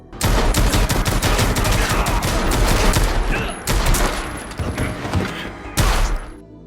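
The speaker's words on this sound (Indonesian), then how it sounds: "detektif Dennis berhasil memenangkan baku tembak tersebut" Gunfire in a film gunfight, rapid dense bursts of shots and fusillades in close succession, loud and sharp throughout with brief pauses between volleys.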